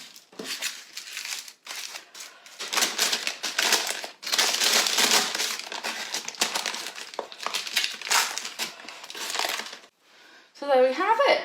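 Chilled, firm chocolate salami rolls are unwrapped from their wrapping in long bursts of loud, close crinkling and crackling, with brief pauses and a voice speaking near the end.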